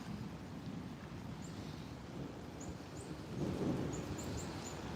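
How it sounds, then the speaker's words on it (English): A New York City thunderstorm rumbles low and distant beneath steady rain hiss and wind, with a swell of deeper thunder near the end; faint birds chirp high above. "Most of your thunder and lightning is down there."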